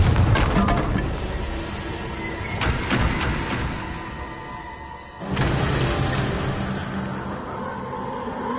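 A Confringo blasting spell bursts in Hogwarts Legacy, a loud rumbling blast with debris roaring on after it, a short dip, then a second heavy booming impact that keeps rumbling to the end.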